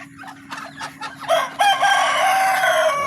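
The oldest rooster on a small farm crows once, a loud, close, drawn-out cock-a-doodle-doo rising after a few softer clucks, with a steady background hum underneath.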